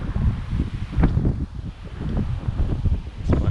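Blustery wind gusts buffet a microphone outdoors at a garden allotment, a loud continuous rumble that surges and eases, with faint rustling underneath and no talking.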